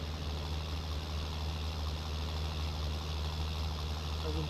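Tractor engine in Farming Simulator 19, chisel plowing a spring field: an even, low, rumbling drone that holds at a constant pitch and level throughout, heard alone.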